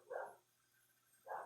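Two faint, muffled dog barks a little over a second apart, heard from some distance in an otherwise quiet indoor room.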